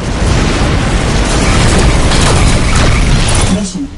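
A large, loud explosion of a destroyed target ship in the space combat game Rebel Galaxy, a sustained roaring blast that fills nearly four seconds before tailing off quickly.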